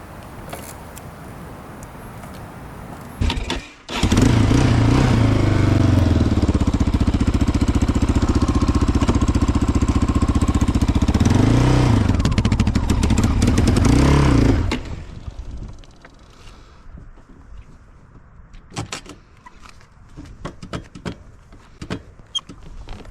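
Used quad engine held at high revs in reverse, droning steadily for about eleven seconds against the rev limiter with slight dips in pitch, then dropping back to quiet idle and handling noises.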